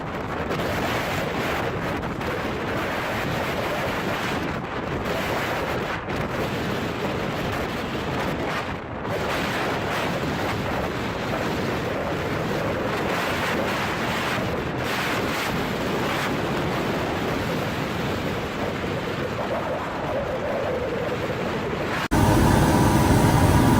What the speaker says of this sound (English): A large fishing vessel flying the flag of the Netherlands confidently passes the waves in a storm.